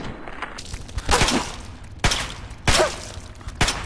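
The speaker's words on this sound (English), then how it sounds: "A lot of shots." Gunfire in Fallout 3 comes as repeated loud, sharp shots roughly every second, each with a short crack and tail over a steady game background.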